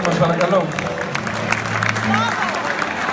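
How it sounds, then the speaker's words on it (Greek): Audience applause at a live Greek concert, a sustained wash of clapping and crowd noise heard under a voice on a microphone and lingering musical tones. "Ένα μεγάλο χειροκρότημα και το Γιαννάκη μας"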